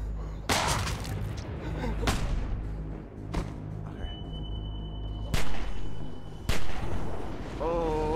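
Sharp gunshots ring out in The Walking Dead Season 2 video game, several loud irregular blasts spaced a second or so apart over a low rumbling game soundtrack, with faint voices in the background.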